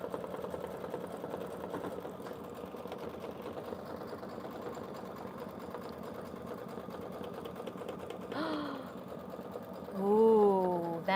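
An embroidery machine stitches a mug rug in the hoop, a steady fast mechanical whirr running throughout at moderate volume, with a voice briefly breaking in near the end.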